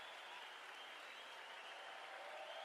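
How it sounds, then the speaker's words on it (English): Crowd applause at a one-day international cricket match between the West Indies and New Zealand, greeting a batsman's half century; a dense, steady roar of clapping from a large stadium crowd runs unbroken throughout. "And a lot of applause from the crowd."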